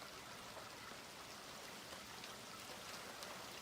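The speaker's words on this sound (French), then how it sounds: "Mais on a énormément de pluie." Heavy rain pours steadily during storm Fabien in Charente, a dense, even hiss of falling water with no talk, fairly faint overall.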